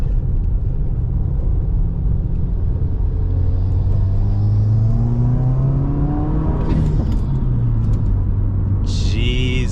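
A car with a Cobb NexGen Stage 2+ exhaust pulls hard out of a turn, a deep rumbling drone rising steadily in pitch through the gears, loud and close from inside the cabin, with a sharp shift blip near the end.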